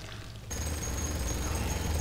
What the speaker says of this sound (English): Thank you, assault cannon.